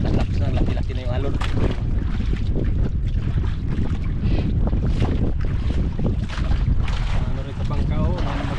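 Loud, constant rush of wind and churning water around a small boat rocking on big waves, with surging waves and a voice speaking in the background.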